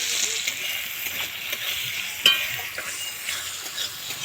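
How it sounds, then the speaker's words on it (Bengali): Chopped onions frying in hot oil, a light sizzle close by, broken by scraping stir strokes and one sharper clack midway. "এবার দিয়ে দেব পেঁয়াজ কুচি। পেঁয়াজটা একটু ভেজে নেব।"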